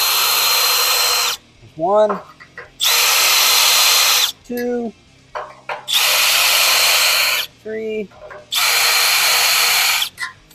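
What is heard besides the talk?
power drill with 5/16 bit drilling metal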